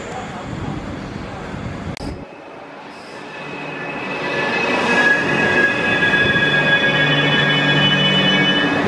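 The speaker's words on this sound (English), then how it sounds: "waiting for the train to arrive." A train arrives at a station platform, its rumble building over several seconds and joined by sustained high wheel squeal as it draws near and slows.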